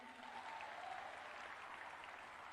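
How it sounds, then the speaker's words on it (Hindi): A network marketing seminar audience claps loudly for themselves, a short, even burst of many hands that sounds distant and slightly muffled. "अपने आप के लिए जोरदार ताली बजा दीजिए"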